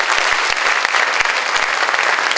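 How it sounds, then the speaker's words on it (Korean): Dense, steady applause from a studio audience at a Korean talk show fills the whole stretch, many hands clapping close and loud with no voices over it. "박수 한 번 좀 부탁드리겠습니다"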